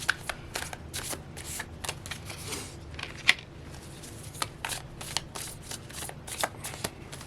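A tarot deck is shuffled by hand over several seconds, a close, quick run of papery riffles and soft card slaps with one sharper snap partway through; nobody speaks.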